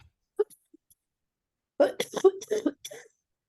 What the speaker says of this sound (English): Oh, you still have a bad cough